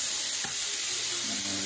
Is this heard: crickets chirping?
no